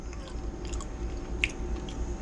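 Crispy Southern-style potato wedges, toaster-oven baked and dipped in Heinz ketchup, are chewed close to the mic, giving a few soft crunching bites over a low steady background hum.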